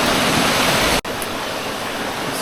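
A waterfall by a stream in Maui, a loud, steady rushing roar of falling water heard up close, with a brief cut in the middle.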